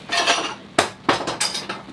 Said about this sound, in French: Julia, elle a empilé les verres sur la vaisselle